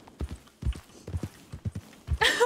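Horse hooves clip-clop in a video game, a close, uneven series of hollow thuds in short clusters, ending in a brief burst of brighter noise.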